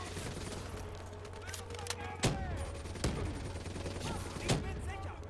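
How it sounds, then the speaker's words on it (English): Grenade explosions in Black Ops 3, several sharp blasts spaced a second or so apart amid crackling gunfire, with a voice talking over the combat. "So many grenades."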